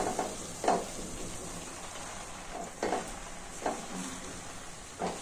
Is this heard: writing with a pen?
no